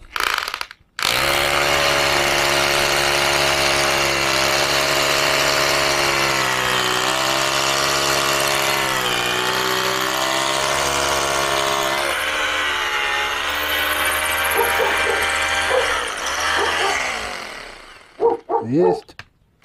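A DEKO DKH850W or Makita HR 2450 rotary hammer drill bores holes into concrete with a loud, sustained hammering drone that runs nearly nonstop, pitch shifting slightly before winding down into scattered clicks and short bursts at the end.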